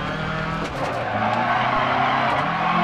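A rally car in Dirt Rally slides through a rallycross corner, engine roaring steadily with tire scrub and skidding, loud and close throughout with no voices.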